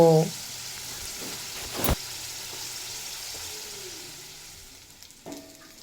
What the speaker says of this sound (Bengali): তো এঁচড়ও আমি স্বাদ মতো লবণ আর পরিমাণ মতো হলুদের গুঁড়ো দিয়ে খুব ভালোভাবে ভেজে নেব